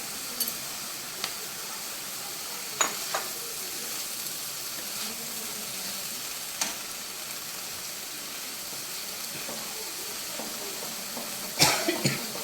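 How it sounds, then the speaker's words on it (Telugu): Green chillies and a handful of curry leaves fry in a pan for a sweet-and-hot chutney, giving a steady soft hiss of sizzling oil with occasional faint clicks and taps of utensils. "పచ్చిమిరపకాయలు కూడా వేగిపోయినాయి"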